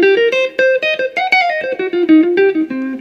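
A clean, undistorted Fender electric guitar plays a quick jazz melodic run of single notes, bright and close, with no voices.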